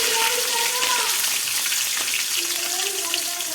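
Ginger garlic paste sizzling in hot oil in a pan, a continuous loud crackling sizzle, with a voice talking over it.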